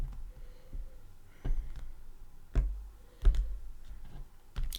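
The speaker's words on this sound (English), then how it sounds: "All right, let's give these a cut." Soft clicks and thumps of a tarot card deck being cut, a few sharper taps spaced unevenly over quiet room noise.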